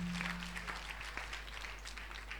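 A church congregation claps for Jesus in a faint, distant patter of many hands, with a brief low hum at the start.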